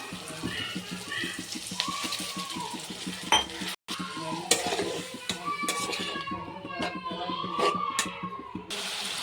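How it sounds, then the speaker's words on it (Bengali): Wet spice paste being stirred in a pan after a splash of water for a chicken dish, clinking and scraping of a spatula against metal over a soft bubbling sizzle, close and busy. "জল দেওয়ার পর দু মিনিট কষিয়ে নিচ্ছি"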